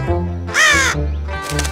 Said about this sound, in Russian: ворона прокаркала, кажись, сработала